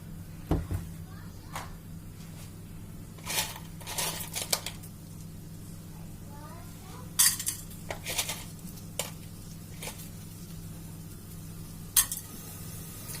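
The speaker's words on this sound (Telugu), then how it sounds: "ఒక్క స్పూన్ నెయ్యి వేసుకుని అందులో స్పైసెస్ అన్ని కూడా ఫ్రై చేసేసుకుందాం." Whole spices fry in a spoonful of ghee, a soft low sizzle beneath repeated clinks and scrapes of a spoon against the pan, with sharp metallic knocks scattered throughout.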